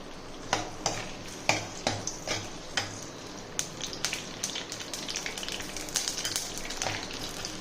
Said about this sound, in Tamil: எண்ணெய் காஞ்சிருச்சு. வடகம் போட்டுக்கலாம்.